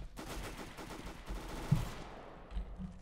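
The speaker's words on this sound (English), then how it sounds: "Who's shooting?" Rapid gunfire bursts in a Counter-Strike: Global Offensive deathmatch, a steady stream of shots with a few louder cracks standing out, fairly close and without talk.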